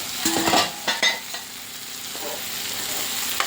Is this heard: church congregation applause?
no